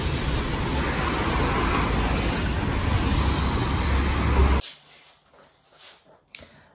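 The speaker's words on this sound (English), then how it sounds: "You probably can't hear me very well because of the wind and all the traffic" Wind buffeting and passing road traffic by the seaside make a loud, continuous roar that cuts off abruptly near the end, leaving a much quieter background with a few faint knocks.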